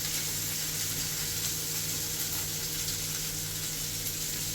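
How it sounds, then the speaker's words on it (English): Lionfish fries in hot oil in a frying pan, giving a steady, close hiss and crackle of sizzling that continues evenly without pauses or voices. "It's now time to put the spicy one in the frying pan."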